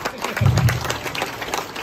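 Audience applause at a campaign event for a congressional candidate, a brief burst of clapping with a low crowd rumble, fairly loud and steady throughout.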